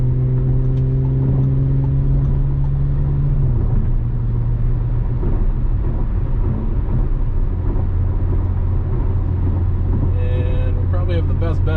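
A 2019 Audi RS5 accelerating up to speed on the road, its engine note rising then settling into a steady low cabin rumble and whir heard from inside, continuous throughout.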